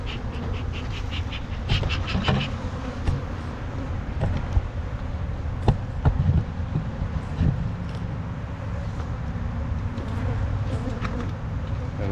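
Honeybees buzz steadily around an opened hive being reassembled for almond pollination, a dense close hum running throughout with occasional knocks and handling sounds.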